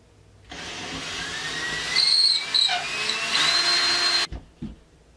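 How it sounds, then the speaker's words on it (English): A power drill whirs steadily for a few seconds while drilling pilot holes for a ceiling fan install, its pitch shifting as it bites, then stops abruptly, followed by a couple of soft knocks. "So I'm going to drill a couple pilot holes and see what we got."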